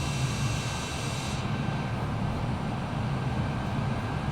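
Boeing Dreamliner airliner engines in Microsoft Flight Simulator, a steady droning jet hum with a faint high whine, continuous and moderately quiet with no talk.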